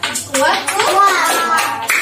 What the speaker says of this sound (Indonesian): Tepuk jari satu, lemah, kuat.